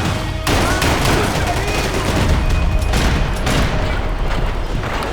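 Gunfire in the video game Max Payne 3 sounds as loud, dense bursts of shots and booms, rattling continuously with a voice speaking over the din.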